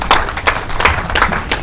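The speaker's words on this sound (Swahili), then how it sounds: "Tumpatie Yesu makofi" A church congregation clapping for Jesus during a sermon, a brisk run of loose, overlapping handclaps in a lively rhythm, fairly close and fading only slightly.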